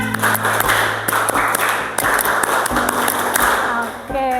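A classroom of students performs a rhythmic spirit clap in unison, sharp claps falling in a quick patterned beat that fills the room loudly from start to finish.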